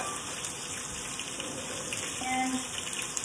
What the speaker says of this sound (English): So let me just put one cup of water in the pot.